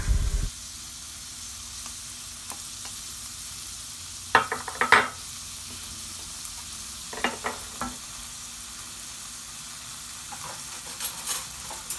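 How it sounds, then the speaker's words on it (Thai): Shrimp stir-frying in a pan with oyster sauce, a steady close sizzle with a few scraping stirs of the spatula and brief clatters, no talking. "พอกุ้งเป็นสีส้ม แล้วก็ใส่น้ำมันหอยลงไปเลยค่ะ"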